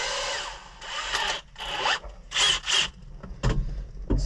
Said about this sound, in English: Now, we will put the large and in charge drill bit in.